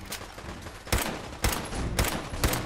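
Gunfire in Fallout 4, with four heavy broadband shots spaced roughly half a second apart over a steady bed of game background noise, loud and close with no talk.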